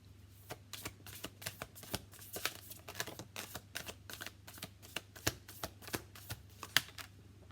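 Tarot cards are shuffled close by in a fast run of crisp riffling flicks and slaps, steady and rhythmic, with no talking.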